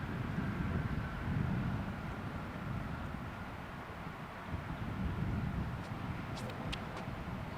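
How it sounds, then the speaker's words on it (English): Steady low wind rumbles across an outdoor disc golf course during a junior world championship round, buffeting the microphone continuously, with a few faint high clinks near the end. "You can hear the wind now, too."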